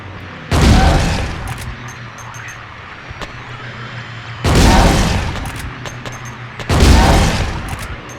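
Three heavy gunshot bursts from the Silent Hill 2 video game land several seconds apart, loud and booming, with a quieter ambient rumble filling the gaps between them.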